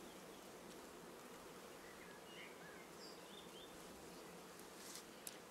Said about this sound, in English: Because there are a lot of bees